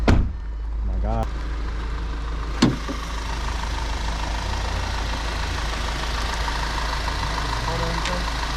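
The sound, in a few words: 2014 Audi A5 engine with AWE Tuning exhaust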